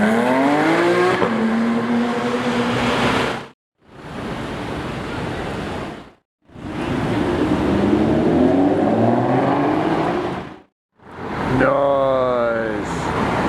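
A heavily MSO-customised McLaren 720 launching and revving, loud engine roars rising in pitch through several bursts separated by brief silences, with harmonic sweeps climbing at the end.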